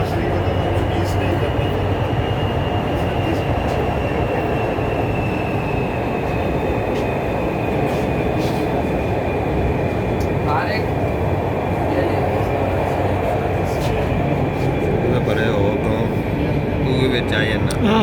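An Orange Line metro train rolls between Railway Station and the UET stop, filling the carriage with a steady, loud rumble and rail hiss throughout, a faint wheel squeal rising briefly in the middle.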